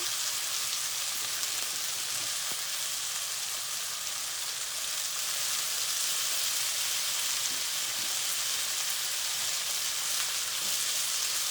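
Steady, dense sizzling of frozen asparagus frying in a hot pan, a continuous crackling hiss with no talking.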